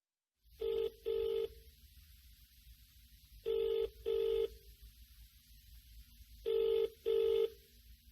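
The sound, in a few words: telephone dialing and ringing for a phone call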